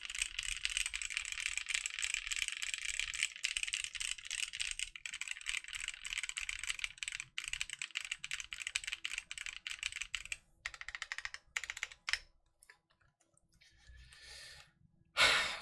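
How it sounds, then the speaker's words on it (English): A Cycle8 keyboard fitted with DCS keycaps, a PC plate, no foam and chocolate caramel switches is typed on in quick, continuous clacking runs, close and crisp, with brief pauses and audible breathing near the end. "who doesn't want a keyboard to sound like that"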